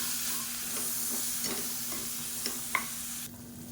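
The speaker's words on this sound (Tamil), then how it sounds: "இதையும் சேர்த்து நல்லா ஒரு பரட்டிக்கலாம்." A spoon stirs boiled chickpeas in a pan over a soft steady sizzle, with a few faint scrapes and light clicks, the last one slightly sharper.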